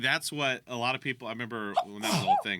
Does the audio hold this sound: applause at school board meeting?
no